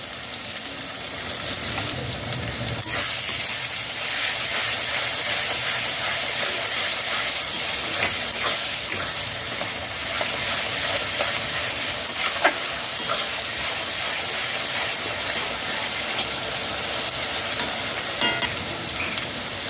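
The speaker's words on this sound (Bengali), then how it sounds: "রসুন আদা বাটা দিয়ে দু মিনিট হাই ফ্লেমে নাড়াচাড়া করে নিয়েছি" Garlic and ginger paste stir-fried on a high flame for a chicken kosha, giving a loud, steady, continuous sizzle with occasional scraping stirs throughout and no talking.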